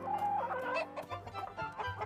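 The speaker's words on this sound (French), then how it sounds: "Qu'est-ce que font toutes ces poules à l'intérieur de ma maison?" Several chickens clucking indoors inside a house, a busy overlapping cluster of calls, close and fairly loud, with no talking.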